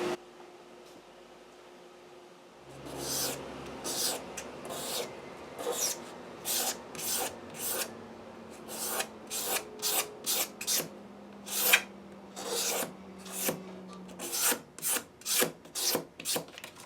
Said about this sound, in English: The rest I'm going to scrape with a razor blade.